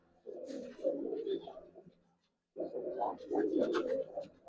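Pigeons of the old Giribaz and Palla strains coo in two low, throaty bursts separated by a short pause, close and moderately loud.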